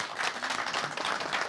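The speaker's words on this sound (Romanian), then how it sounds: "Ia, și tu, Valentina, aplauze, aplauze." Applause from a television studio audience, a dense, even patter of many hands clapping, fairly soft and steady through the short stretch, with no talk over it.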